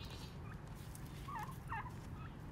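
Turkeys in a backyard garden near chicken coops and fruit trees give a few short gobbling calls over a steady low outdoor hum, moderately distant.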